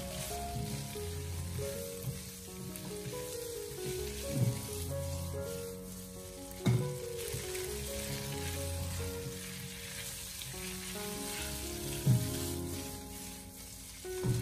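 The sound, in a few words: stir-frying blanched dried tofu over high heat in wok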